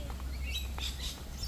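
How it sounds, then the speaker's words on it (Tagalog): Bird chirps sound faintly outdoors, a few short high tweets scattered over quiet background hum. "Ibon."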